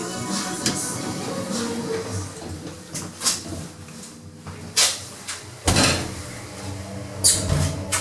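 Lift doors in a shopping centre sliding open and shut, giving several distinct thuds and bangs at irregular intervals over a background of indoor hubbub, with no speech.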